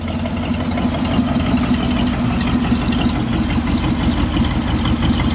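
The engine of an old 1966 Chevy truck idles steadily with a low, even rumble, close and loud and unbroken throughout.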